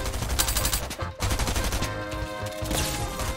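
Shotgun blasts in a fast-paced shooter video game, a few loud sharp shots mixed with rapid gunfire from nearby, with no talking.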